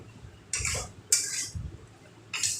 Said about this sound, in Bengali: এইভাবে ভালো করে নেড়ে চেড়ে যাতে মশলাটা কড়াইয়ে লেগে না যায় ভালো করে এটাকে ভেজে নিতে হবে